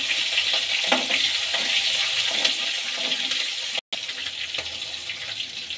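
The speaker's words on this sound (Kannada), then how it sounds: "ಈಗ ಜೀರಿಗೆ ಮತ್ತು ಸಾಸಿವೆನ ಎಣ್ಣೆಗೆ ಹಾಕ್ಕೊಳ್ಳೋಣ." Cumin and mustard seeds spatter and sizzle in hot oil for a Karnataka-style puffed rice dish, a steady close, loud crackling hiss that runs throughout with a brief drop near the end.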